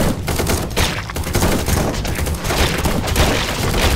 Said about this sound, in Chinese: 开枪，开枪，解决他们，解决他们